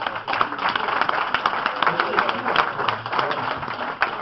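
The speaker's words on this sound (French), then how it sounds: "Je crois qu'on peut l'applaudir." Crowd applause at the 2012 chapter ceremony of the andouillette de Cambrai confraternity, a dense, steady patter of many hands clapping for about four seconds with voices chattering underneath.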